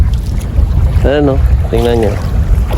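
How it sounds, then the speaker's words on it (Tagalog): Strong wind buffeting the microphone and large waves churning beside a small fishing boat near the shore, a heavy low rumble throughout, with someone speaking briefly over it. "Nasa gilid lang kami mga katoda, pero malalaki ang alon dito sa gilid."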